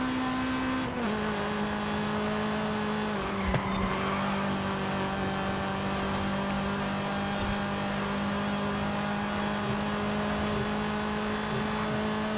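Racing car engine droning at steady high revs in Forza Horizon 5, a sustained loud tone with a brief shift near the start and a bump midway, alone without talk.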